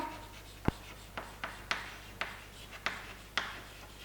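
Handwriting during a chemistry lesson produces a series of about seven short scratchy pen or chalk strokes, sparse and faint, with no talk over them.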